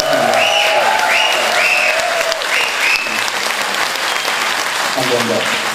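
At a live band concert, the audience claps loudly for the drummer during member introductions, continuous applause mixed with a sustained musical tone and a few scattered voices.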